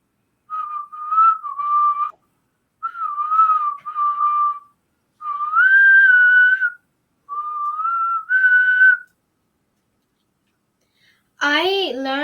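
A person whistles the melody of a song in clear, tuneful phrases separated by short pauses, close and alone, with a brief voice at the very end.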